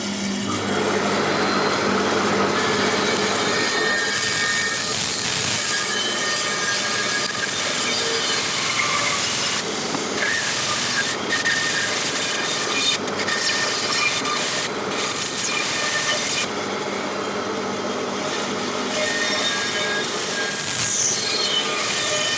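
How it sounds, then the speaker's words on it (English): A bandsaw cuts out a London plane wood blank in a woodturning shop, with a loud continuous whine and rasp of the blade in the wood, shifting in tone as the cut goes on and briefly dropping between passes. "Let's get this over to the bandsaw and we'll cut this out."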